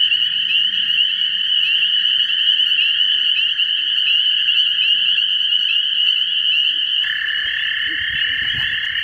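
A dense chorus of high, shrill spring peeper frog peeps rings continuously, loud and close, with no pause across the whole stretch.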